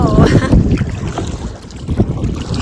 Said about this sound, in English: Some pretty good wind gusts out here